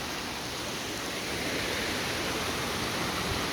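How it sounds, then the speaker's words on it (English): Small waterfalls in a forest along a mountain trail, a steady, full rushing hiss of falling water close by, unbroken and slightly louder in the second half, with no voices. "Lots of beautiful little waterfalls."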